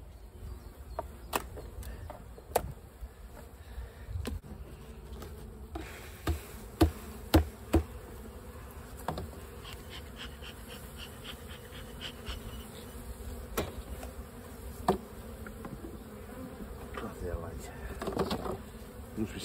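Honey bees droning around an open hive, a low steady buzz close by, punctuated by clicks and knocks of hive equipment being handled.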